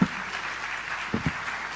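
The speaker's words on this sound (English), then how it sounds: "Please, may we give the panelists a resounding applause." An audience at an induction and investiture ceremony gives the panelists a round of applause, heard as a steady, moderately loud wash of clapping with a few sharper claps near the start and late in the burst.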